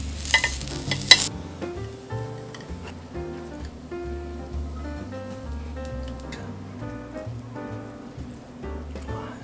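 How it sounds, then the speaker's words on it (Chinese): Pink oyster mushroom stems fry in a pan with garlic oil, giving a soft, steady sizzle with occasional stirring scrapes, faint and close, under quiet background music. "关键让它这个杆煎熟了就行了"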